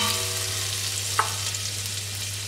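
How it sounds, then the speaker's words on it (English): Garlic sizzles in olive oil in a pan over medium heat for shakshuka. The steady, close frying hiss carries a single soft stirring clink partway through. "We're gonna add some garlic, stir a bit."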